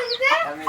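A hen gives a single short, close cluck, clear and alone.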